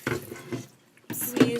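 Tap water runs into a diffuser being filled for cleaning, heard in two short splashing bursts with a brief pause between them, close and moderately quiet.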